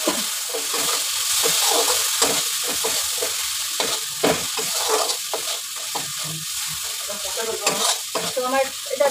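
A little water hits hot oil in a home cooking pan and sizzles loudly and steadily, with frequent scraping and knocking of a stirring spoon throughout, close by and with no talk.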